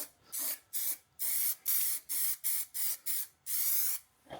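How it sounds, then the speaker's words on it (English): Primer sprayed onto a Volkswagen Golf GTI car panel in a spray booth: about nine short, close hissing bursts in a quick, even rhythm, each lasting a fraction of a second, with no talking. "I'll give this a couple of coats of X primer"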